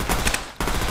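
Short burst of rapid gunfire from The Last Stand Dead Zone video game, a loud rattle of shots that cuts out briefly and resumes within under a second.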